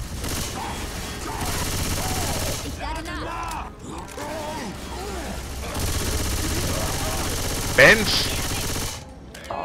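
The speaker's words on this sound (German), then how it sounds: "Die Uzi, die reißt aber auch nichts weg." Uzi submachine gun fire in the zombie shooter Left 4 Dead 2, sustained rapid bursts running through most of the clip among game effects, with a man briefly exclaiming.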